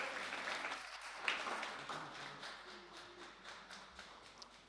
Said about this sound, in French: Oui, on peut applaudir Dieu ce matin.